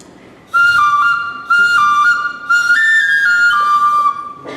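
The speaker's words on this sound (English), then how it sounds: "they turned a little stick into a flute" A homemade flute made from a small wooden stick with burned holes plays a few clear, loud sustained notes in separate phrases, with no voices.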